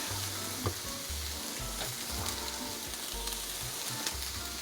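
Shrimp fry in a pan with a dense, continuous sizzle and crackle close by, with faint clinks and stirring noises under the hiss.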